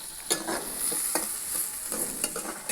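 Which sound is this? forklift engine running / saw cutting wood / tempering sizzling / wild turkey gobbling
tempering sizzling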